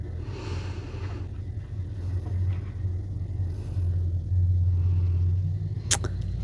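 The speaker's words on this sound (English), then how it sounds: "my neighbors have a visitor or something, and it's like the loudest truck ever" A very loud truck visiting a neighbour's house, heard as a deep, continuous low rumble that swells and grows louder toward the end, with a brief sharp noise near the close and no talk.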